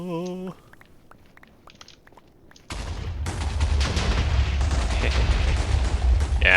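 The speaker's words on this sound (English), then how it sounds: "I've mined out the huge line here, filled it up with TNT, and then I'm gonna set this on fire now" TNT set off in a long mined-out line in Minecraft erupts into a loud, continuous rumble of overlapping blasts after a few quiet seconds of game sounds, lasting to the end.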